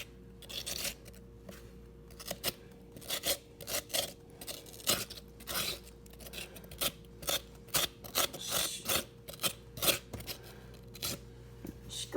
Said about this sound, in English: scrape it until you have this emptiness and until it actually feels like a hollowed out shell.